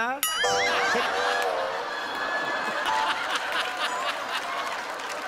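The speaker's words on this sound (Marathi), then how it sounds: "अरे अरे टाळ्या काय वाजवताय?" A studio audience at a Marathi comedy show claps steadily under a burst of laughter and chatter, the applause a dense, continuous patter filling the room for several seconds.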